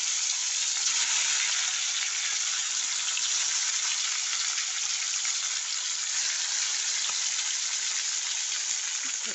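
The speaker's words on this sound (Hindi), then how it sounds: "थोड़ा थोड़ा कर फ्राई करेंगे।" Fish frying in a pan gives a constant, even hiss of hot oil, moderately loud and close, with no stirring or voices over it.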